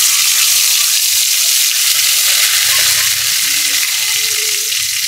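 Bay leaf, cinnamon and cardamom hit hot oil in a wok, producing a loud, continuous close-up sizzle with dense crackling that holds steady without pause.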